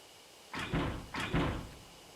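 A locked cottage door in the video game Spirit Hunter: Death Mark rattles in two close, loud bursts of wooden knocking and clattering, each a short shaking jolt, with quiet between.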